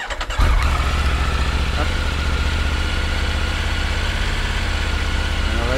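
A 2025 Triumph Tiger 900 GT Pro motorcycle engine on a cold start cranks and catches after a brief pause, then settles into a loud, steady idle close by, with one short word spoken at the moment of starting.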